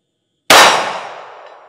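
A single pistol round from a Smith and Wesson Bodyguard 2.0 strikes a steel plate target, giving one sharp metallic clang that rings and decays over about a second, heard alone after brief silence.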